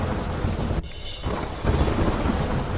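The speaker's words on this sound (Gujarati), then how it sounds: "કાળા ડિબાંગ વાદળો વચ્ચે શરૂ થયો વરસાદ" Steady heavy rain under dark storm clouds with rumbling thunder, a dense broadband downpour that dips briefly, then swells louder again.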